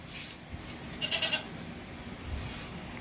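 Goats bleat on a farm during milking, a short cluster of two or three calls near the middle, moderately close, over a steady low hum from the milking equipment.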